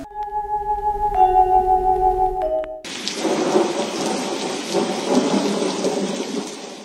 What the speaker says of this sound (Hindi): आज तो सुबह से ही बारिश हो रही है।